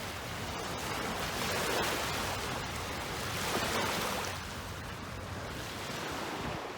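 Surf rolls onto a long protected Lake Michigan beach near Chicago, a steady wash of breaking waves with gentle swells in loudness, moderately quiet, mixed with some wind noise and no voices.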